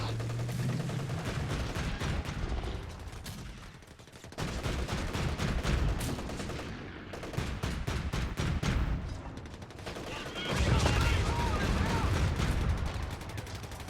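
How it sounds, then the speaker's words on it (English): Mortar and gunfire in a Company of Heroes 3 battle: dense rolling volleys of explosions and rapid shots, loud and continuous, with heavier booming bursts near the start and end. "We're pinned. And we're getting mortared."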